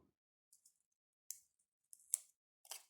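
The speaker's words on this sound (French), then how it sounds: "Comme ça, je coupe juste l'excédent." Small scissors trim the excess off a nail sticker in a few quick, crisp, very close snips, separated by silence.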